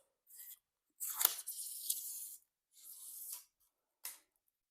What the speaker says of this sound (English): There is a plastic film on this that I'm gonna go ahead and take off.